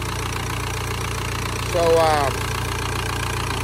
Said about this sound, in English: Okay, I always do it when the engine is running, so it's warm.